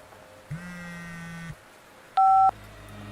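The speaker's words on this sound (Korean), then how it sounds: "그 순간 전화가 왔다." Telephone sound effect in a horror radio drama: a low buzzing tone followed by a short, loud, high electronic ring beep, isolated against near-silence.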